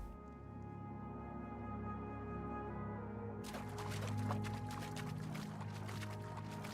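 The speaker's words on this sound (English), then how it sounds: "It sounds like water." Water flowing in the video game Oblivion demake, a steady low watery hiss and trickle that suddenly brightens and thickens partway through, continuous and fairly faint with no talk.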